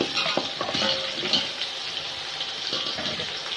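Chicken feet frying in a pot with oil and water for a pulao, a steady close hiss of bubbling with faint crackles running throughout, no voices.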